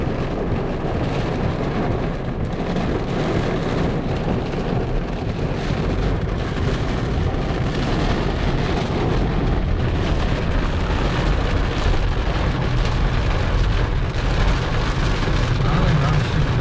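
A heavy rain downpour in Arizona or Utah roars as a dense, unbroken wash of noise, loud and close throughout, with a low rumble underneath.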